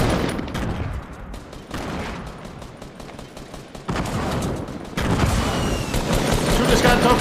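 Grenade blasts and rapid gunfire in a Fortnite match, loud booming bursts and dense shot volleys that build in intensity over several seconds, with players talking over the action.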